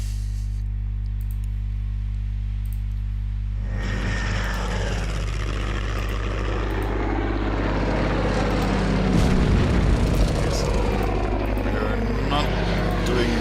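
Explosions and heavy artillery-like booms pound an anti-tank gun in the WW2 strategy game Order of Battle, bursting in after a quiet start and swelling into a dense, loud barrage near the end.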